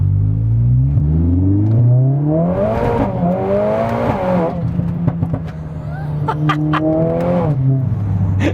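A modified Mercedes-AMG A45S, over 500 bhp, accelerates hard in second gear with its wheels spinning, the close, loud engine note rising in pitch through a long pull as a voice talks over it.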